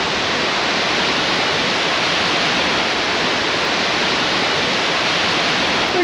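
A waterfall called Cascate Sky, seen on a motorcycle trip to Nordkapp, roars as a steady, dense broadband rush that stays loud and even from start to finish, with no voices.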